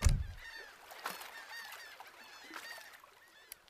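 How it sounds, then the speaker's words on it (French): Seagull cries from a video game, a string of high, thin calls repeating faintly over a quiet background, with a low thump at the very start. "Petite mouette."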